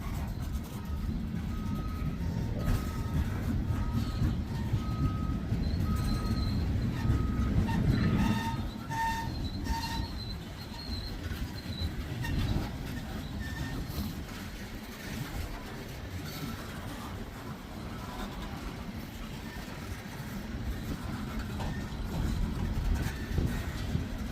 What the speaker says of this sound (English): Now it depends how long this coke train is